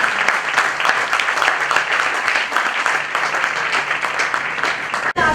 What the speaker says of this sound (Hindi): आइए हम जोर से ताली बजा के प्रभु के दास का स्वागत करें।